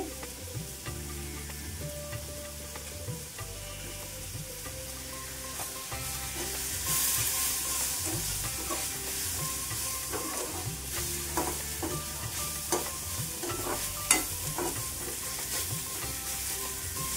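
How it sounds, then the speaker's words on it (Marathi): Tomato, ginger, garlic and dried coconut sautéing in a pan on medium gas for misal, a steady close sizzle with repeated scraping stirs and occasional spoon knocks, no talk. "हे आपल्याला छान परतून घ्यायचं आहे असं खरपूस"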